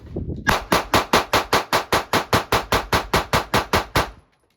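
Rapid, evenly spaced handgun fire from a Sig Sauer P365 or Springfield Armory Hellcat: about seventeen loud, close shots at roughly four per second, then an abrupt stop into silence.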